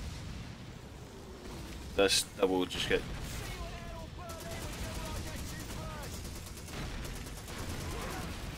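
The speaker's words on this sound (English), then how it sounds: "Boy, so much explosion going on." Battle sounds from the video game Call of Duty 2: a few sharp bursts of gunfire and blasts near the start, followed by a rough, continuous din of combat, with someone talking over it.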